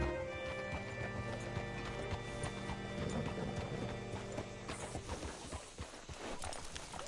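Horse hooves clip-clop in Red Dead Redemption 2, a steady rhythmic stepping that is close and clear over quiet game ambience and picks up toward the end.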